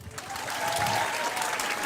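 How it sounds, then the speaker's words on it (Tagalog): Crowd applause at a political rally stage event, a brief steady burst of clapping, moderately loud and fairly close, with no clear speech over it. "Ang hina naman ang palakpak nyo."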